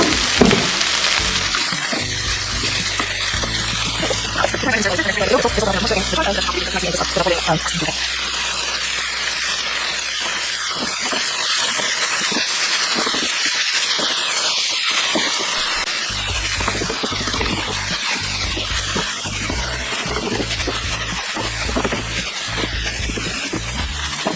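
Swiss chard leaves cooking down in a frying pan, a steady loud sizzle and hiss throughout, with a person talking over it and occasional soft clatter.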